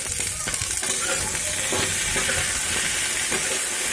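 Onion frying in a pan, a loud, dense, continuous sizzle and hiss close up with faint stirring, no one talking.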